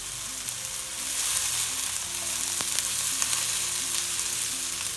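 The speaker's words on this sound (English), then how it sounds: "Put some ghee in there." Ghee spitting over sheek kebabs frying in a pan gives a steady, close sizzle with fine crackle throughout and a few sharper pops, no voices.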